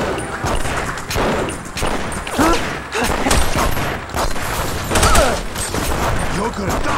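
Gunfire in The Punisher on Xbox, a dense, continuous barrage of rapid shots and impacts with booming bursts throughout, loud and close, with voices shouting amid the shooting.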